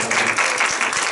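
An audience gives a brief round of applause for the event organizers, a dense wash of clapping that lasts only about a second.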